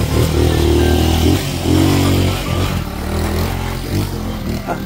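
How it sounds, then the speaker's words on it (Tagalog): A motorcycle engine rumbles loudly close by, its revs rising and falling in low throaty surges, then easing off. "Oh, naay motor sa likod guys."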